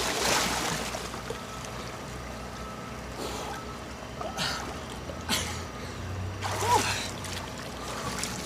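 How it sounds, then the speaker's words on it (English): A person wearing a backpack slips and falls into a chilly river, with a loud splash at the start, then scattered splashing and water movement close by, and brief bits of talking. "I just happen to slip and happen to fall in the"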